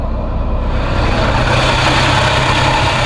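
A Porsche 968 engine idling after a cold morning start, a steady low rumble with a constant drone and faint higher whine, close and continuous with no talking.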